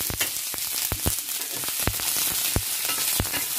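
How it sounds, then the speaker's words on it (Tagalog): Onion sizzles in hot cooking oil in a pan, a steady bright frying hiss broken by sharp crackles and pops, close and fairly quiet. "So ngayon ay nilagyan ko na ng mantika yung kawali. Next, ilagay na natin ang sibuyas."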